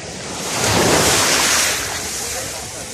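Strong sea waves at the shore, a loud rushing surge that swells and recedes over a few seconds, with wind buffeting the microphone.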